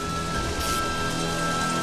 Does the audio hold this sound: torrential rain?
yes